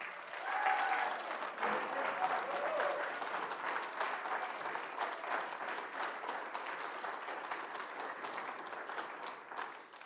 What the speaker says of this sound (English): please stand and let's give them an applause